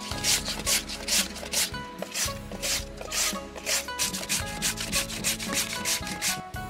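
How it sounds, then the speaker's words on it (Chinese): Potatoes are grated into strips in a rustic kitchen. Quick, rhythmic rasping strokes repeat several times a second, close and clear, with no one speaking. "把洋芋切成条儿"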